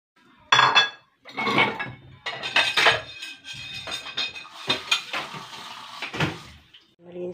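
Dishes and cutlery clatter and clink in bursts, close by, with scraping and knocking between pauses, like washing up at a sink.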